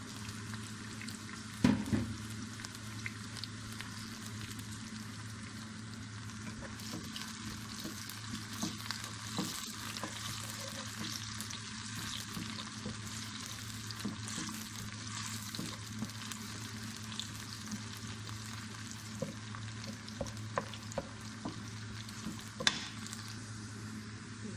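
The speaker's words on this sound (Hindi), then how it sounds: "लहसुन अदरक को शामिल कर देंगे।" Garlic, ginger and onion sizzle continuously in a pan while a utensil stirs and scrapes now and then, the frying close and steady throughout with no speech.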